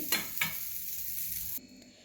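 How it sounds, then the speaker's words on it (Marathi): Fish pieces shallow-frying in oil in a pan, a steady close sizzle with a couple of brief stirring scrapes early on, cutting off abruptly near the end. "फिरवून दोन्ही साईडनं भाजायचं चांगलं तेल सोडून बघा छान असं भाजायला लागलेत मासं"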